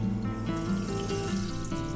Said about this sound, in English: I'm just gonna flick on the water switch and we're gonna look for leaks.